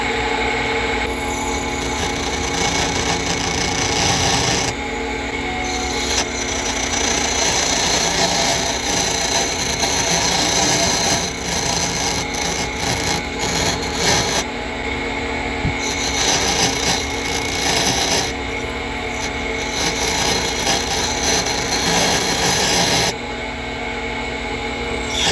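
A drill bit grinds into AK rifle parts kit metal with a harsh, rasping scrape, running continuously for a long stretch with brief pauses and changes in pressure.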